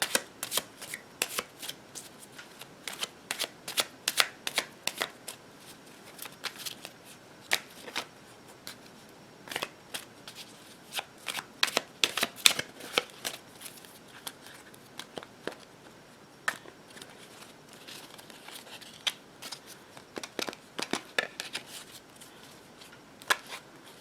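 Tarot cards being shuffled by hand, a long run of quick crisp riffling flicks and soft card slaps in uneven bursts, close and fairly quiet, with no talking.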